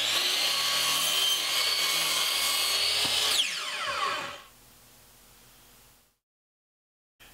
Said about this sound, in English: I'll cross cut it to 17 inches long